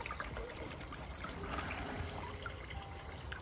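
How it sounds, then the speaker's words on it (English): A floating pond skimmer is lowered into a koi pond and fills with water, giving a faint, steady trickling and gurgling close by. "hold on to it while you place it in the water, let it fill up"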